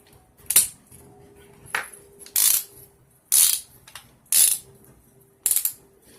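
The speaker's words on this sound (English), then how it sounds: "Insert it in the chuck and clamp it down." A drill chuck being tightened by hand to clamp a wire coil gives six sharp ratcheting clicks in short bursts, close and loud, separated by brief quiet gaps.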